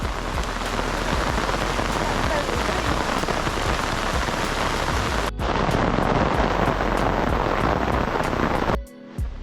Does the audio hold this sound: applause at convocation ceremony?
no